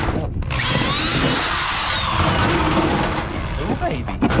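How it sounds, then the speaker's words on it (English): A power drill bores into the plastic shell of a Yeti cooler, a loud, steady whine with shifting pitch that runs almost continuously, with people talking over it. "We need to go ahead and drill the top and bottom right quick."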